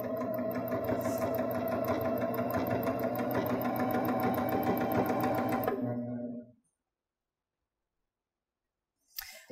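A Baby Lock Jazz II sewing machine runs a straight stitch along a pressed hem with the needle centered, humming steadily and fairly loudly for about six seconds, then stopping into silence before a faint click.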